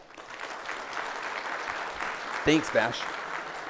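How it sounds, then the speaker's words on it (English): Conference audience applauding at a SAINTCON hacker challenge session, a steady wash of clapping throughout, with someone speaking briefly over it near the end. "I would love to hear by applause if you enjoyed that"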